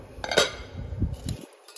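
A large Kaisavila cooking pot, 21.5 cm across and 4 litres in capacity, is handled and knocked about, giving a few close metallic clinks and clatters over under two seconds.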